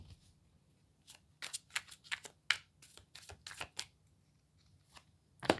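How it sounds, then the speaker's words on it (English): Crisp riffling and flicking of tarot cards in quick bursts, with sharp slaps near the end, close up and alone. "One more shuffle"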